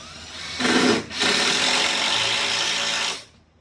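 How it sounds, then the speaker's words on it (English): A power tool drives a toenail into 2x4 wood framing for a shower stall wall, a loud close whir in a short burst, then a brief dip and a sustained buzzing run of about two seconds before stopping. "I'll come in on this end and drive a toenail"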